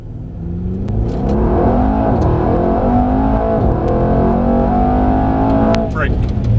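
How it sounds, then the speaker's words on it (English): A Mercedes-AMG E63 (non-S) accelerates hard on a race track, its engine note loud and close, climbing steadily through the revs in one sustained pull with a brief shift near the end; people talk over it. "So let's just do a good acceleration, good braking first."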